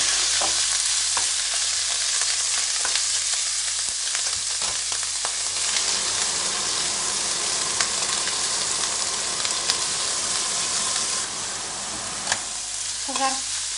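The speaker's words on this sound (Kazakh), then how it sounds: "Енді осы табаға печеньді саламыз." Liver frying in a pan for a warm salad gives a steady, close sizzle with crackling bursts and occasional stirring scrapes throughout, with no voices.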